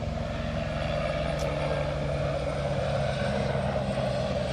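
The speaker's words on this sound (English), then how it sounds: "Oh, it's a helicopter." A helicopter flying overhead outdoors, a steady, loud engine and rotor drone that fills the whole stretch without fading, with no speech.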